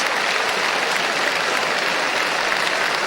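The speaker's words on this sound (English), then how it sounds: "a tremendous round of applause from the attendants in Northern Park to two teams who gave their all" A crowd at Northern Park applauds steadily after a drawn Gaelic football county senior semi-final between St Martin's and the Fenians, a dense continuous wash of clapping with no voices.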